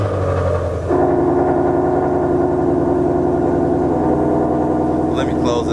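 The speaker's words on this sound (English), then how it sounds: "So it will open up with the exhaust wide open." A Ford Mustang GT350 V8 idles with its exhaust valves wide open, a loud, close, deep burbling drone that steps up in pitch and volume about a second in and then holds steady.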